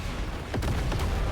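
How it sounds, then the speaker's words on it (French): Chain of internal explosions tearing through a starship's engines in Star Wars Outlaws, heard as a couple of heavy booms and cracks over a dense, roaring rumble. "Je détecte des explosions internes et une réaction en chaîne dans les moteurs du révélateur."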